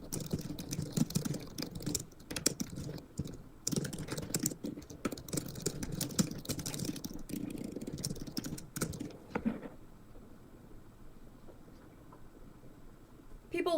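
Typing on a computer keyboard, a dense patter of quick clicks and taps for about nine seconds before dropping to near quiet.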